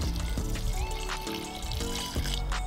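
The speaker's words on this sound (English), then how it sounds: "let's go ahead, put some water in it" Water pours into a concrete trash can being turned into a small pond, a continuous splashing flow with a tonal ring from the filling vessel, fairly loud and close.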